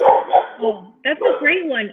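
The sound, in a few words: dog barking in the background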